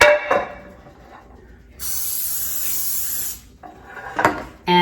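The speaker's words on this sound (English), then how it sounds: "So then we grab our baking dish and we spray it" A can of cooking spray hisses steadily for about a second and a half into a baking dish in a home kitchen, framed by soft clinks and handling noises before and after.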